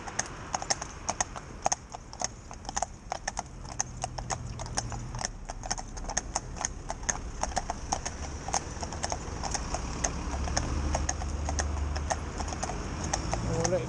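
Hooves of a commercial pair of Friesian horses clip-clopping on a hard surface, a brisk continuous rhythm of sharp clacks that grows busier as they move toward a trot, with a voice and rumbling movement underneath.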